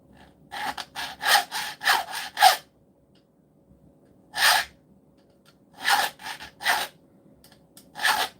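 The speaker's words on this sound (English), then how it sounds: "That filing noise?" Repeated rasping strokes of a hand file in a workshop, close and fairly loud, in a burst of about seven quick strokes followed by scattered single and paired strokes with quiet gaps between.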